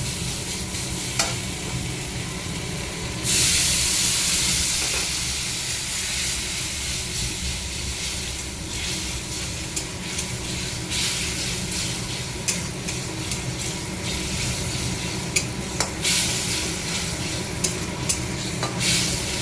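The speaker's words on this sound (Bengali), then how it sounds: "জল দিয়ে ভালো করে মশলাটাকে ভেজে নেবো" Spice paste with chili powder fries with a splash of water in a pan, sizzling and steaming loudly. A spoon stirs and scrapes it with occasional clicks, and a burst of hiss flares early, close and without speech.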